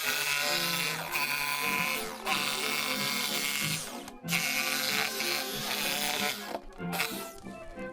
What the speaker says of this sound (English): now we'll cut out the big hole for the blower